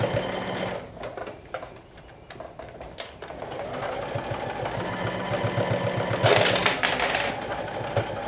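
A sewing machine stitches through several layers of fabric, its fast, even mechanical chatter running nearly throughout, pausing briefly and rising louder near the end.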